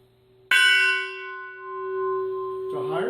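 A metal cylinder bell is struck once at its middle, giving a bright clang that rings on with a sustained, steady tone, and a second strike or touch near the end adds a brief rustling burst over the ringing.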